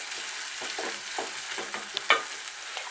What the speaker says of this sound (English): Cooking our onions till they brown.